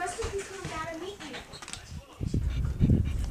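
A pug panting and letting out high thin whimpers close by, held in someone's arms, with people talking around it and some handling noise.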